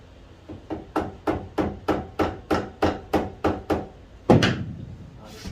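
A rubber hammer pounds a steering part onto the front axle of a Farmall Super A tractor, about a dozen even, dull thuds at a steady rhythm, ending in one heavier blow.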